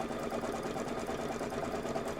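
An embroidery machine runs a tack-down stitch on fabric, a steady close mechanical whir with rapid, even needle clatter throughout and no talking.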